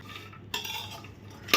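Pistachios stirred and roasted in ghee in a pan, with brief scraping clinks of a spoon against the metal and a louder clatter at the end.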